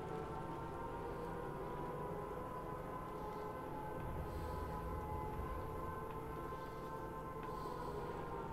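Air raid sirens wail steadily through a Sniper Elite 5 game scene, a continuous droning tone with rumbling background and no pauses.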